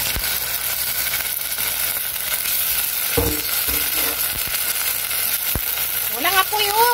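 Sardines sizzle and fry in a pan with ampalaya, a steady, close crackling hiss with a few scraping stirs and clinks, and a brief voice near the end.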